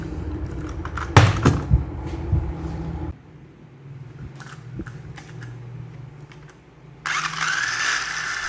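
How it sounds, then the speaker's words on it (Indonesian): Tamiya Toyota Yaris GR mini 4WD car on a motor test run, a small electric motor whirring in bursts with clicks and handling clatter, a quieter stretch in the middle, then a louder high whine near the end. "Jadi langsung aja kita tes run Tamiya Toyota Yaris GR."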